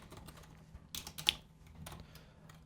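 A few scattered, close keystrokes on a computer keyboard as code is typed for a Unity game script, with short irregular clusters of clicks and one sharper tap in a quiet room.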